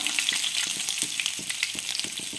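Mustard seeds, ginger and garlic frying in oil in a pan for a prawn roast, a dense bright sizzle with rapid popping crackles, close and steady.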